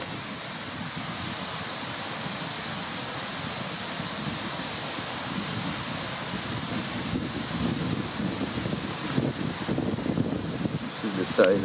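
Steady outdoor wind rushes across the microphone in a garden with a butterfly on a flower, a continuous broadband roar with faint gusts, while someone talks quietly over it.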